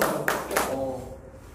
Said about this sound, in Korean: 오늘 박수 한번 쳐드릴까요?